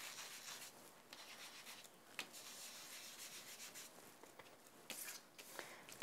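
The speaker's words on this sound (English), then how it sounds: "Working from the edge of the craft mat, I'm just going to sponge in a circular motion." Foam sponge rubbing ink in small circles onto a paper card on a craft mat, a very faint, close, continuous soft scrubbing with light irregular swishes and no talking.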